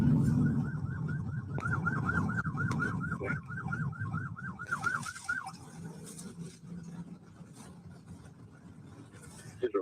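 A police car siren wails from a body camera recording, its rapid rising-and-falling yelp looping steadily over rumbling road and engine noise for about six seconds before fading into the background.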